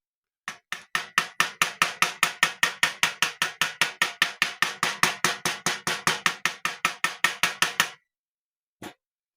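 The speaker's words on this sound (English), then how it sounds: "you just got to be careful and just slightly tap" Rapid, even hammer taps on a guitar ring out in a long steady run of about forty strikes, then a pause and one last tap.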